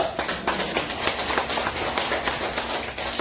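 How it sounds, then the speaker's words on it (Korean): During a Korean church worship service, the congregation gives a round of clapping in praise. It is a lively, even patter of many hands, moderately loud and sustained throughout, with no speech over it. "우리 하나님께 한번 영광의 박수 돌립시다"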